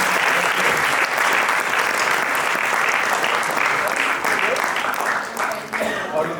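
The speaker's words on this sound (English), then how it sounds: "So big round of applause for the effort." Audience applause fills a charity presentation and acknowledgements event, a dense, steady wash of many hands clapping throughout at close range, with a few voices faintly mixed in.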